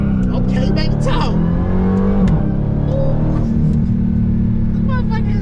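Dodge Hellcat Jailbreak with a 717+ horsepower engine revving loud and close, a steady deep roar that rises and swells through the whole stretch, with excited talk from people nearby over it.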